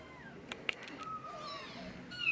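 Small kittens give several faint, high, thin meows over a quiet room background, with a couple of brief clicks early on.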